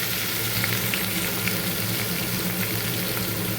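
Spring onion paste fries in hot oil with curry leaves, giving a dense, even sizzle and bubbling hiss that runs unbroken and close, with no talking.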